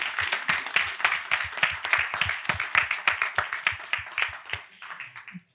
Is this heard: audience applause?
yes